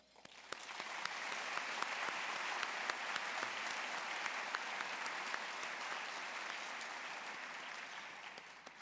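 Sustained applause from a large audience at an annual conservation luncheon, a broad steady roar of many clapping hands that swells in and holds for nearly nine seconds, heard at a moderate distance with no talking over it.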